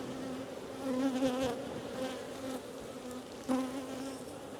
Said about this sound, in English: I can pull a frame of nurse bees and shake in here.